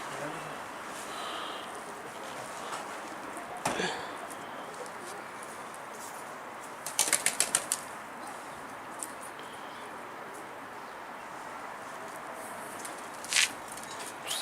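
A pigeon takes off midway with a quick burst of wing claps. A softer flutter follows later, against quiet outdoor ambience.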